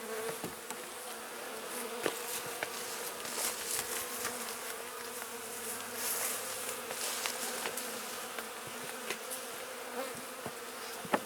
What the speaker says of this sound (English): The box still has a few hundred bees in it for sure